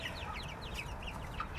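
Meat chickens on a farm cluck and chatter in a busy flock, with many overlapping short calls close by over a constant background murmur.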